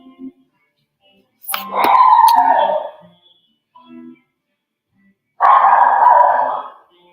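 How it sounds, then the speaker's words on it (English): A dog barking indoors in two loud, drawn-out outbursts separated by a few seconds of silence, with a faint short yap between them. "My dog's going crazy."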